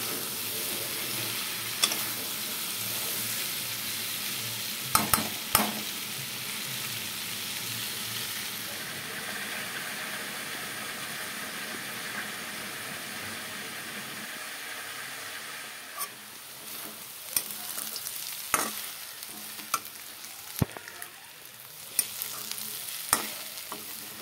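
Potatoes and cauliflower sizzle steadily in a pan, a continuous close frying hiss with occasional clacks of a spatula stirring, growing sparser and more clicky toward the end; no talking.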